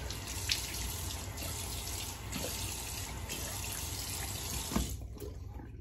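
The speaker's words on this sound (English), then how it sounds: "let's go ahead and rinse that alum off." Water running steadily from a sink faucet while alum is rinsed off a freshly shaved face, a continuous soft splashing hiss with small irregular splashes from hands in the stream.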